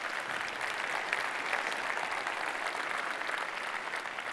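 Even, sustained applause from a large audience at a general session presentation, a dense, fairly distant wash of clapping that holds steady throughout with no talking.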